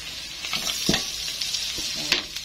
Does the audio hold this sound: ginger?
yes